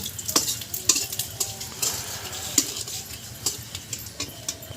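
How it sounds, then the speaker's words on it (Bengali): Whole cumin seeds and bay leaf stirred in hot oil in a pan for a curry tempering, a steady sizzle broken by a spoon clinking and scraping against the pan every second or so, close up. "ফোড়নে গোটা জিরে, তেজপাতা, আর আমি নাড়ছি"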